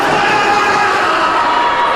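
A crowd at a wrestling show in Kingston, New York, roars loudly and continuously, a dense wall of cheering and shouting with no breaks.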